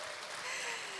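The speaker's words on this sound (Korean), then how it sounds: "마음에 흡족하셨다면 다시 한번 큰 박수 보내주실래요?" Audience applause after a drum dance performance at an outdoor traditional arts event in Jindo. A brief wash of clapping runs beneath a voice.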